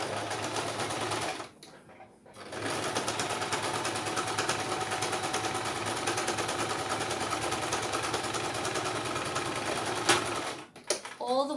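A sewing machine runs a steady, close straight stitch on a fabric tote bag, with a short pause near the start and a faint voice in the background.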